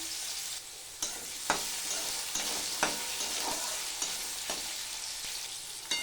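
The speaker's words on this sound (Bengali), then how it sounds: "আগে আমি আলুটা ভেজে নেব" Potatoes frying in white oil for chowmein, a constant bright sizzle with a spatula knocking and scraping against the pan at irregular intervals, close and alone.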